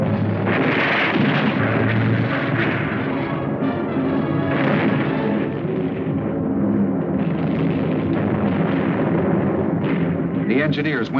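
Heavy gunfire and explosive bursts from a town, aimed at gliders making rough landings on a field, form a dense, continuous rumbling barrage with sharp cracks under a steady narrating voice.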